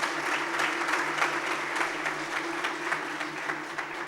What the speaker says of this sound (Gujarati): એનો આપણે જોરદાર તાળીથી વધાવવા.